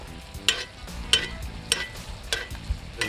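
A New York strip steak sizzles in a cast iron pan while butter is spooned over it, a steady close hiss broken by four or five sharp spoon clinks at a regular pace.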